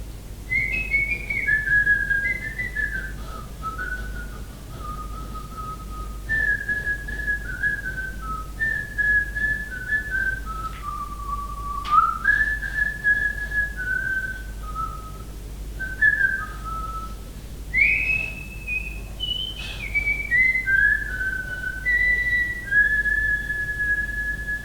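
A melody on an antara, an Andean cane panpipe, with breathy, pure tones gliding and stepping between pitches in flowing phrases, played alone and steadily for about twenty-five seconds over a low background hum.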